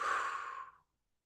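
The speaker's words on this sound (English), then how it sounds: "Then you'll exhale." A single slow, breathy exhale during box breathing, soft and close, trailing off into silence.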